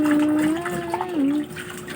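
Mung beans are rinsed in water, with steady splashing and sloshing close by and a faint voice in the background.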